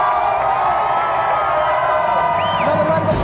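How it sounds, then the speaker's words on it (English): A television studio audience at a 1994 video game show breaks into loud, sustained applause and cheering, a dense unbroken wash of clapping and whoops. "Another round of applause there for David and Jason."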